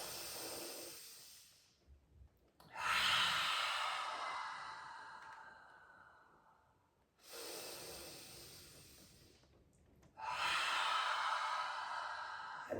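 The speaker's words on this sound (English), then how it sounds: "take 2 gigantic breaths here" Deep breaths drawn during a yoga stretch with the head tipped back: three long, close, airy inhale-and-exhale cycles at a slow, even pace, separated by short quiet gaps.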